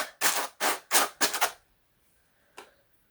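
Wool gunk is scraped out of hand carders in four or five quick, loud brushing strokes in a steady rhythm. After a short silence comes one fainter stroke.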